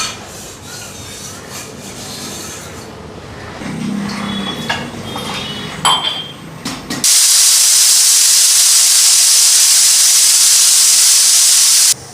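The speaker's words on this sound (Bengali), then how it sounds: "একটা সিটি দিয়ে নেব" A pressure cooker cooking gourd and peas lets out a loud, steady steam hiss that abruptly takes over after several seconds of scraping and kitchen clatter, holding continuous and close until it cuts off.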